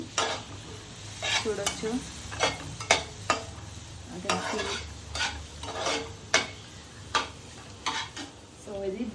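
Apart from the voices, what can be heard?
food frying in a pan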